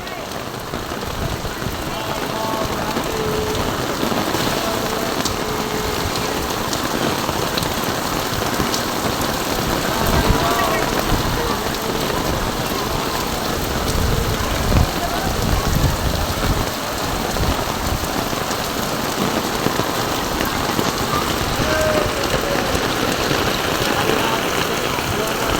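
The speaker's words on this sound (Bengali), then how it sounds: "ওরে বৃষ্টি" Heavy rain pours down steadily, a dense close roar of drops on surfaces that runs without pause for the whole stretch.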